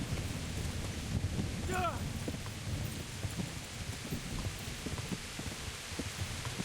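Heavy rain falls steadily in a dark, gray medieval game world, a dense continuous hiss with low rumbling underneath, and a brief chirping call cuts through early on.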